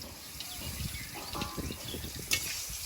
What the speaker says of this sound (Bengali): ভালোভাবে ভেজে নেবো ঢেঁড়স পটল ভাজা